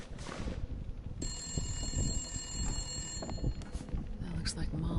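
A telephone rings inside The Long Dark survival video game, a steady high electronic trill lasting a few seconds while someone talks over it.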